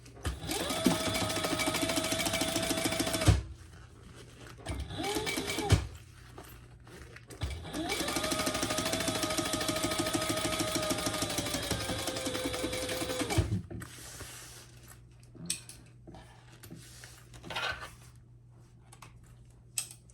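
A sewing machine top-stitches a pouch seam without lining underneath, running in a few long steady bursts with short pauses between, close and clear, with no talking.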